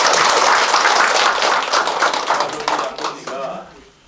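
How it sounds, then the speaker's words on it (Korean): A village audience in rural Korea claps together at a community gathering, a dense burst of applause that thins and fades over a few seconds, with a voice talking beneath it. "박수 쳐보세요."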